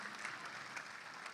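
Applause from the audience at a Republic Day kavi sammelan and mushaira in Dubai, heard faint and distant as a brief patter of many hands clapping.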